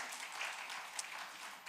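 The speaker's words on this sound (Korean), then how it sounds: "큰 박수 하겠습니다." A church congregation applauds at a Wednesday prayer meeting, a dense, even patter of many hands clapping at a moderate distance, steady throughout without voices.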